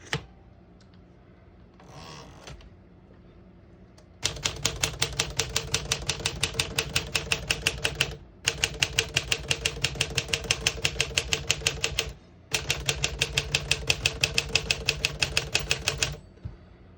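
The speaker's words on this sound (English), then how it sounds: "It's a little bit more muffled than a regular typewriter." A 1956 Smith-Corona Silent Super portable typewriter types in steady rapid bursts of somewhat muffled keystrokes, broken by two brief pauses, after a quiet stretch with a carriage or margin adjustment at the start.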